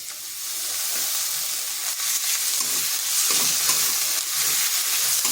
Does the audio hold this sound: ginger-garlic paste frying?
yes